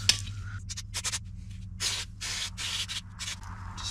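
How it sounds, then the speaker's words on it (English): Several short bursts of aerosol brake cleaner spray hiss close by, spaced irregularly over a few seconds with silent gaps between. "This is just brake cleaner."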